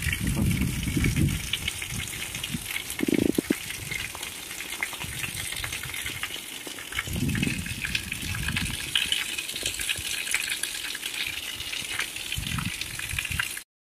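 Heavy monsoon rain pours in a steady broadband wash, loud and continuous throughout, with occasional low thumps and rumbles underneath.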